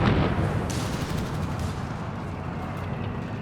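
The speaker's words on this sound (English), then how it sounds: "Officer there taking heavy fire alongside the outhouse." Heavy gunfire and artillery rumble together in a Company of Heroes 3 battle near an outhouse. The barrage is dense, loud and continuous, with sharp rapid cracks over a deep, rolling boom.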